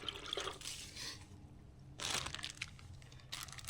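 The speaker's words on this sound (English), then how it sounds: "fill this up about halfway with some water." Water is poured into a plastic bucket in faint, splashy bursts, with a short gap before a stronger pour around the middle, all quiet and close.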